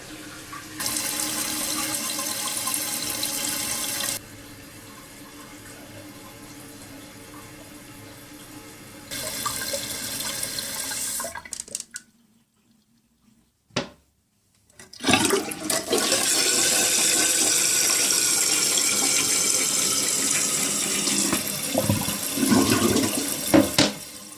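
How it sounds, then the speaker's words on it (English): A newly installed toilet flushes and refills, rushing water in long loud bursts broken by a short quiet gap, then steady hissing refill flow close by, with no talking. "Turn on the water,"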